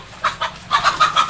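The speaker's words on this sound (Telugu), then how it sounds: "నాటుకోళ్ళు ఉన్నాయి, జాతి కోళ్ళు ఉన్నాయి" Country chickens cluck in a garden with a lemon tree, a few short bursts close by, then a quicker run of clucks, with no talking.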